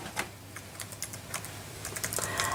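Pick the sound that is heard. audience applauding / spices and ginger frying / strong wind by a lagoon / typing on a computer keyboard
typing on a computer keyboard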